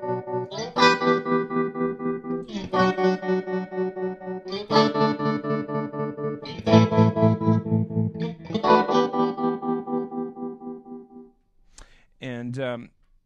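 Electric guitar chords through a Flux Effects Liquid Tremolo pedal set to a hard, square-wave tremolo, the volume chopping on and off in a fast regular pulse across several strummed chords, followed by a brief voice.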